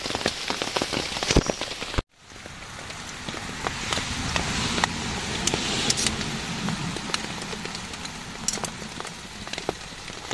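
A downpour pounds a small tent in a bamboo forest, a continuous close hiss of rain with sharp individual drops hitting the fabric, briefly cut out near the start before resuming steadily.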